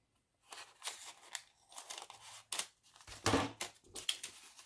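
Scissors cut through a piece of paper card in a series of close, quiet, crisp snips and crunches at an irregular rhythm.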